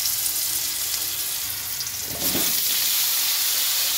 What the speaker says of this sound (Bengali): এরপর ওই তেলে জিরে ফোড়ন দিয়ে আলুগুলো ভেজে নেব